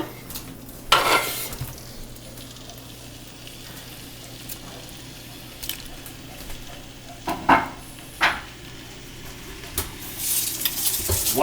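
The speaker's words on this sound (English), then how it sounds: "slide it right into that pan and brown up the" Sausage browns in hot olive oil in a pan, giving a steady low sizzle broken by a few sharp scrapes and clatters of a utensil against the pan, with no talking.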